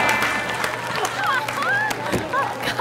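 Crowd of waiting travellers cheering and clapping in an airport, a dense wash of applause mixed with excited voices and babble, fairly loud and close.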